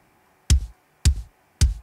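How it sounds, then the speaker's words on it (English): Layered kick drum samples with a bassy, saturated noise thud hit three times at an even pace, each a deep punchy boom with a short decay and near silence in between. "That layered in with all the kicks sounds like this."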